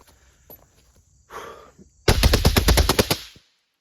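A firearm fires a rapid string of about ten rounds from a magazine during a function test of a newly installed part, loud and close, after a few quiet mechanical clicks and a brief rustle of handling.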